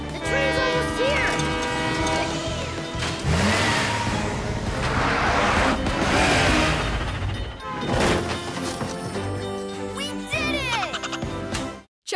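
A cartoon train rushes closer with rumbling, roaring engine noise and rising whistle-like tones, loud and building through most of the scene before an abrupt stop. Voices and music play over it.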